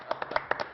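A handful of sharp, separate hand claps from a few people in a brief, sparse burst, fairly quiet and without speech over them.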